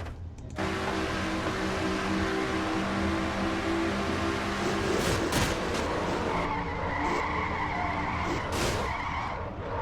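A Pontiac race car in a stock car racing video game, heard from onboard, skids with sustained tire squeal over engine roar, loud and continuous, with a harsh scraping burst midway.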